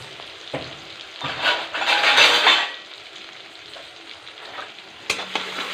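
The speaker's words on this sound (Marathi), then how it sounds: "एक कांदा बारीक कट केलेला घालायचा आहे अर्धा टमा टमाटे घातले आहे हे पूर्ण परतून घ्यायचं आहे" Chopped onion and tomato frying in a pan, a steady sizzle swelling with bursts of stirring and scraping, then easing to a quieter fry with a sharp clink of utensil near the end; no voices.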